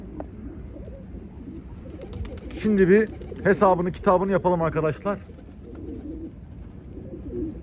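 Pigeons cooing and calling in a loft, a short run of voiced coos in the middle of the clip, close and fairly loud, with someone talking before and after them.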